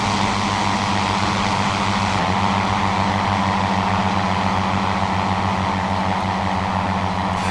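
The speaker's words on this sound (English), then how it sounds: "You can see the engines in the back here, and it is a rotary engine back there." Rotary engine of an Airco DH-2 pusher biplane in the flight game Rise of Flight, a steady, loud droning hum that holds unbroken throughout, with no voices over it.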